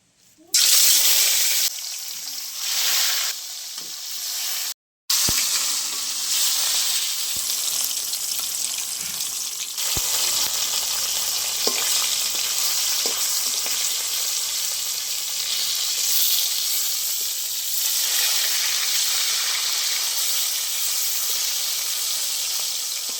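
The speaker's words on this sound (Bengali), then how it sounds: "তেল গরম হয়ে গেছে তেলের মধ্যে মাছ দেবো এবার" Kalbose fish fries in hot mustard oil in a wok, opening with brief bursts of noise and a short gap before a loud, sustained, close sizzle with occasional faint pops, no talking.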